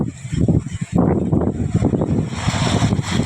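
Strong wind buffets the microphone outdoors in loud, low, rumbling gusts that surge and ease throughout, with no clear voices.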